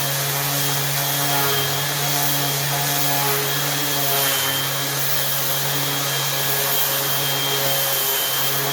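A power sander with 80 grit paper works across a large wooden cross section for tree-ring study, a loud, steady close-up drone with a constant motor hum that continues unbroken throughout.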